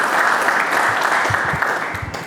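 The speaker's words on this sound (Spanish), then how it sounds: "Por favor, démosle un fuerte aplauso para recibir al doctor" Sustained applause from a seated audience at an evening symposium in Mexico City, welcoming a doctor to the stage; dense, steady clapping filling the whole clip without speech.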